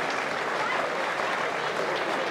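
Broad, steady crowd applause at a junior county Gaelic football final between Headford and Tuam Stars as an injured player leaves, continuous and fairly loud throughout.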